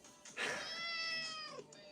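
A small stray kitten lets out one clear, drawn-out meow, close and fairly quiet, with no talk around it.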